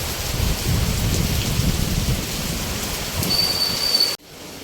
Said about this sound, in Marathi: पत्र्यावरती पाणी पडतं आहे